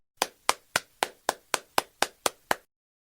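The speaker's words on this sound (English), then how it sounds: "Let's put your hands together and clap." Ten sharp hand claps in a steady, even rhythm, close and clear, each about a quarter second apart, with silence after the last one.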